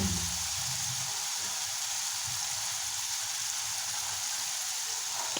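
Turmeric, coriander and panch phoron spices frying in oil in a covered pan while cooking broad bean seeds, a steady, even sizzle that hisses continuously throughout, with faint low clatters underneath and no voices.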